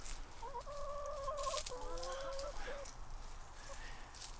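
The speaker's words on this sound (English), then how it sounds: "Hanging out with the chickens." Chickens cluck and call close by in a run of warbling, rising and falling notes, then quieter scattered clucks over a steady background hiss.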